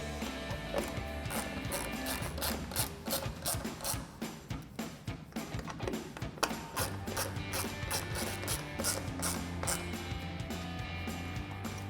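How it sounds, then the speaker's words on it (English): Ratchet with a T25 socket tightening the tail light screws on a 2019-2024 RAM 1500, a steady run of rapid close clicks in repeated bursts. "We're gonna take our ratchet with our T25 socket and tighten them down."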